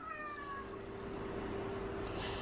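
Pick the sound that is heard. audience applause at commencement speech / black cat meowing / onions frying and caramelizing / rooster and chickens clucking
black cat meowing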